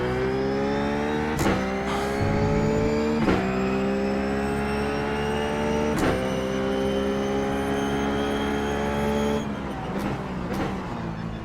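Race car engine in the iRacing sim at Motegi at night, droning steadily after a downshift to second gear, with sharp shift blips and brief rev changes before the note drops near the end.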